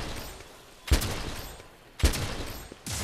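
Heavy Bowgun firing slicing ammo in Monster Hunter World, three loud booming shots about a second apart, each followed by a rushing, crackling tail.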